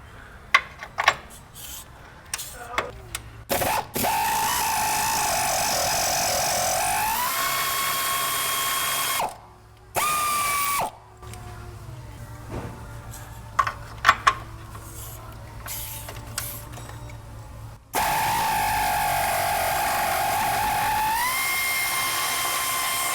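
A powered ratchet whirs in several sustained, high-pitched bursts while loosening 21 mm shock bolts on a wrecked 2012 GMC 4x4 truck during a suspension rebuild. Short clicks and metallic knocks fall between the runs.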